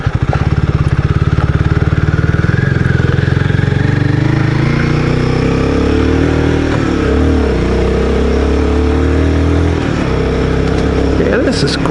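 Royal Enfield Guerrilla 450 motorcycle climbing a track, its engine a steady loud drone close by that lifts and eases through the ride, with wind rumble throughout.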